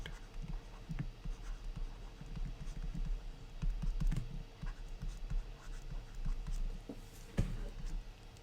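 During a quantum mechanics lecture, a pen or marker scratches across a board in soft, irregular strokes and taps. The sound stays faint and close, over a low room hum, with no talking.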